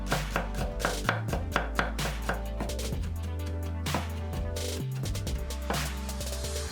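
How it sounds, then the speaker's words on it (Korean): A kitchen knife finely minces four whole garlic cloves on a board for quick spring cabbage kimchi: a fast, steady run of crisp chopping taps, close up, over a continuous musical backing. "통마늘 4개는 잘게 다져주고"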